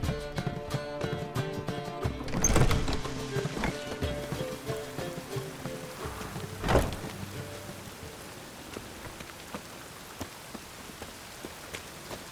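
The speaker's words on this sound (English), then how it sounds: "Rain again. Damn mages." Steady rain falls across an outdoor scene in the video game The Witcher 3, a continuous hiss with two louder gusty swells early on and scattered sharp drops. No talking.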